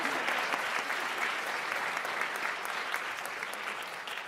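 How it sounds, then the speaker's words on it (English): A school board meeting audience gives its staff a dense, steady round of applause that holds at an even level for a few seconds, with no talking over it. "We'll clap for our staff."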